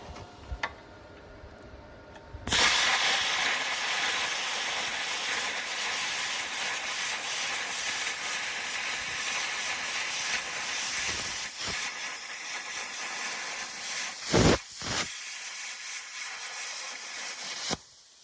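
Handheld plasma cutter slicing through metal plate in a workshop: a loud, steady hiss with a crackling edge kicks in after a quiet start and runs continuously, with a couple of brief dips before it carries on to the end.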